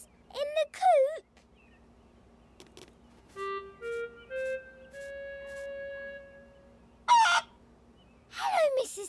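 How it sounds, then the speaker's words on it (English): Cartoon chickens in a coop at a grandparents' farm cluck and squawk in short bursts at the start and end, with sustained musical tones in between; the clucks sound voiced by a performer. "See the chickens in the coop."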